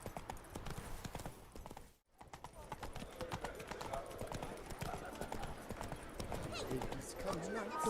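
Steady clip-clop of a ridden horse's hooves in The Witcher 3: Blood and Wine, a continuous trotting rhythm at moderate level that briefly drops out, with faint talk mixed in.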